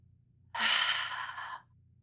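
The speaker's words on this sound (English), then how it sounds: "One more breath." A single deep, audible exhale during a yoga session, a soft breathy sigh lasting about a second, close and alone in a quiet room.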